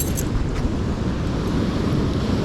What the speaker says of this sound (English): But it's just the bloody waves banging that weed.